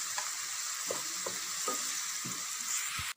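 Onions sauté with salt in a pan for chicken biryani, a steady hiss of frying punctuated by several soft scrapes of a spoon stirring, ending in a brief knock.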